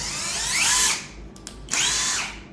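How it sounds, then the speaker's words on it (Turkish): A power drill drives screws into a solid wood Montessori children's floor bed frame, giving two close, loud whirring bursts separated by a short pause. "vidalama işlemini gerçekleştiriyorsunuz."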